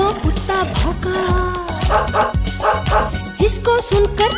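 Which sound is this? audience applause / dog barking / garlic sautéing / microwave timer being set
dog barking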